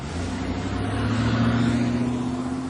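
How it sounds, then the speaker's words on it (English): A car engine hums steadily with a low droning tone, rising slightly as the vehicle pulls away at moderate distance. "he and the man with the yellow hat got into the car to drive to the movie studio"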